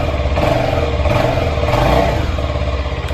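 A CFMoto NK 250 motorcycle engine runs at a steady idle, loud and close, with a continuous rumbling exhaust note throughout and no talk.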